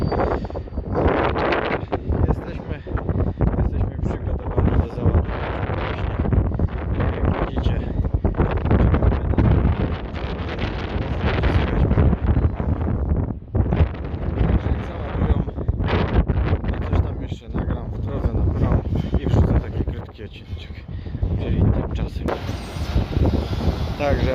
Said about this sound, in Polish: Próbuję Wam coś nagrać, ale wieje strasznie